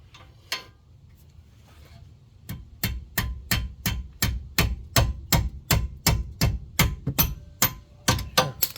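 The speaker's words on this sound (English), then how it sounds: "I like to tap it with a rubber hammer just to get it loose sometimes" A rubber hammer taps a wrench on the rear brakes of a 2016 Ford Flex. After a few scattered knocks, a steady series of about fifteen sharp, evenly spaced metallic taps follows close by, with no talking.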